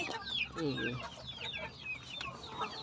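A hen clucks in a busy, repeated run after laying an egg on top of a car engine, her calls close and fairly loud over a low background rumble.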